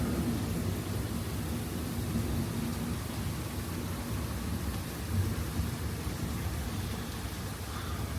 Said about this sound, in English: Mostly right now it's just been lightning and thunder.